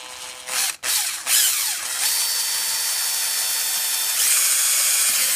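A power drill runs in reverse while boring through wood for a saw-bench dust vacuum setup, a loud steady whine with a brief dip and restart near the start, continuing alone without talk.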